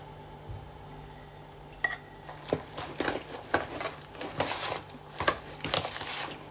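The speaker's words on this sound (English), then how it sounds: "Make sure you give it really good stirring there while you're doing it" Stiff Christmas cake mixture stirred in a bowl, giving a run of irregular soft scrapes and dull thuds that build into a steady rhythm of spoon strokes, moderately close over a faint steady hum.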